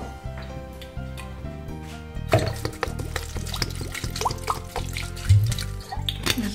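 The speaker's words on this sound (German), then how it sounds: "Und gebe etwas Wasser dazu." Water poured onto chopped grass, a sudden start of splashing and dripping that continues unevenly and close by over background music.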